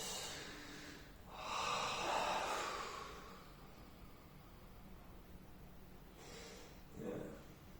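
A person breathes out slowly and audibly, a soft, close exhale lasting a couple of seconds, followed by quieter breaths in a hushed room.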